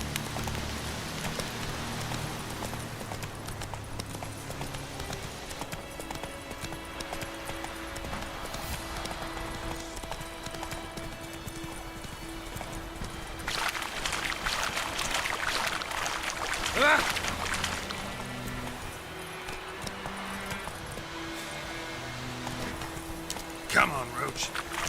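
Roach, a horse in The Witcher 3, trots with steady rhythmic clip-clop hooves under a spoken voice and ambient game music, with a few louder accents near the end.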